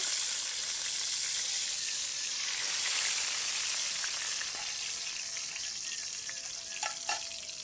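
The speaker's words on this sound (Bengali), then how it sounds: "তেলটা গরম হয়ে গেছে, একটু লঙ্কা দিয়ে দিব, 5 ফোড়ন দিয়ে দিব" Dried chili and five-spice seeds dropped into hot oil, sizzling as a bright, steady hiss that swells briefly and stays close and loud, with no talking.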